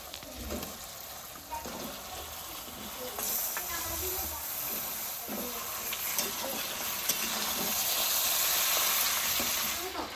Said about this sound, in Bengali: মশলা কষানো হয়ে গেছে এখন আমি মাংসটা দিয়ে দেবো